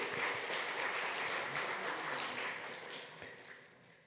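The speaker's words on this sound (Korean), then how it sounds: "박수 한번 보내겠습니다" A church congregation at a Sunday service applauds in a steady, dense burst of clapping that fades toward the end, with no talk over it.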